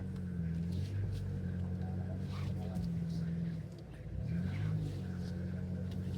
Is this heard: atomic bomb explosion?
no